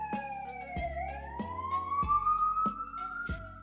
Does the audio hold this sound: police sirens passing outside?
yes